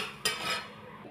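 Dal lentils stirred while dry-roasting in a pan: a sharp utensil scrape against the pan followed by soft gritty rustling of the grains, quiet and close with no talk.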